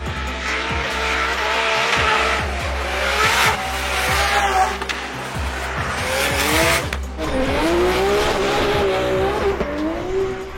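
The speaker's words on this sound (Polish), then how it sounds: "Głośne te samochody, kto na to pozwala?" Drift cars at a Drift Masters round in Riga roar past loudly with rising and falling engine revs and repeated sustained tyre squeals. The squeals layer over each other close by throughout.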